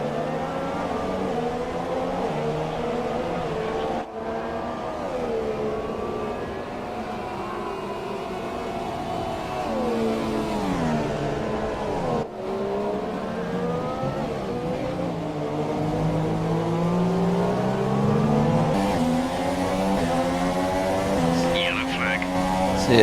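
A Force India Formula 1 car races in F1 2018 at the Austrian circuit. Its high, whining engine note rises and falls steadily through gear changes and is continuous throughout, with a voice commenting over it.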